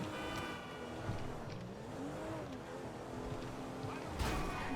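A car drives in the GTA V video game with a steady, fairly faint engine drone and road noise. A brief thump near the end suggests a bump.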